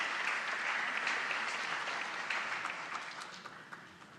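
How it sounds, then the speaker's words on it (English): An audience at a strategic healthcare conference claps in a dense, steady round of applause that starts full and gradually thins and fades toward the end, with no voices over it. "I think she deserves a round of applause"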